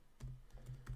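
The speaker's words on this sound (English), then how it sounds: "typing" Fingers type on a computer keyboard, giving a short run of soft, quick clicks at close range, with no other sound around them.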